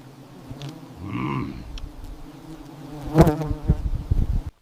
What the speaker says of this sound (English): Can already hear the bees.